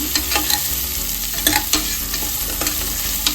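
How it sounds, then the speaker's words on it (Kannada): Onions fry in a pan while being browned, a loud, steady sizzle close up, broken by brief scraping stirs, with no voices. "ಈರುಳ್ಳಿ ಸ್ವಲ್ಪ ಬ್ರೌನ್ ಕಲರ್ ಬರೋವರೆಗೆ ಫ್ರೈ ಮಾಡ್ಕೊಳ್ಳೋಣ"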